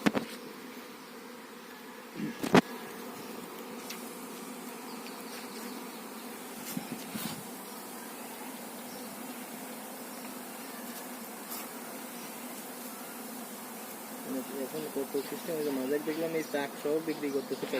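Honey bees buzz in a steady, even drone around hives in a mustard field, a continuous near hum with a few sharp knocks early on and people talking over it.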